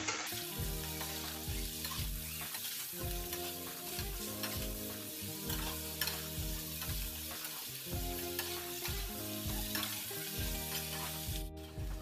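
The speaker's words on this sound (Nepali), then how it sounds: "अब हाई फ्लेममा हामीले परवल र आलुलाई प्याजसँग 2-3 मिनटको लागि मजाले फ्राई गर्छौँ" Pointed gourd and potatoes with onion fry on high flame, giving a loud, dense sizzle with rhythmic stirring scrapes that repeat every second or so, alone and without talk.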